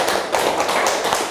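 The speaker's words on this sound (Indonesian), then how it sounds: "Oke, tepuk tangan terlebih dahulu." Students clapping together in a classroom, a short burst of rhythmic, fairly loud group applause with no voices over it.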